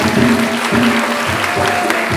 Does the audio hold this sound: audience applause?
yes